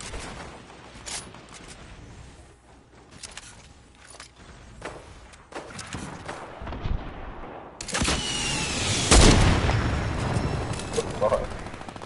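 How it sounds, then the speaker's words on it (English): Gunfire in a multiplayer shooter game, with repeated shots and bursts that build from scattered cracks to a loud, dense barrage near the end, along with footsteps and players talking over it. "We're getting shot from our east."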